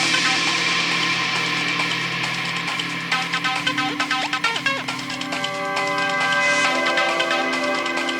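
Reversed bell tones swell within a gritty stealth-action VR game score, layered sustained pitched tones under shimmering metallic strikes and a rhythmic tapping texture, loud and continuous.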